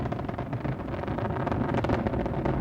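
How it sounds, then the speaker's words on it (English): Space Shuttle Atlantis climbing during the STS-46 launch with its engines throttling back, a dense, continuous roaring rumble that stays loud and steady throughout. "Engines are throttling back now, helping to ease Atlantis through the dense lower altitudes as it continues to accelerate very rapidly."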